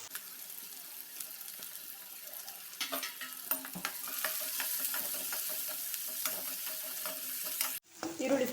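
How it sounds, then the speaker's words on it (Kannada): Onion, garlic and green chilli fry in a pan with a steady sizzle, broken by the scrape and clatter of stirring, then a sharp break near the end as a different clatter takes over. "ಈರುಳ್ಳಿ ಫ್ರೈ ಆಗಿದೆ"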